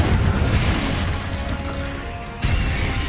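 A Confringo fire spell bursts in Hogwarts Legacy with a heavy booming crash, followed by a rumbling tail and a second sharp impact near the end, loud and close.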